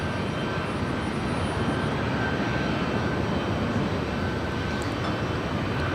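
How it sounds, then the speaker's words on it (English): Delta Airlines Boeing 757-300 jet at Los Angeles International Airport, a steady broadband engine roar that holds loud and constant throughout, with no talk over it. "Delta Airlines Flight 1048 heading to Minneapolis. It's a 757-300."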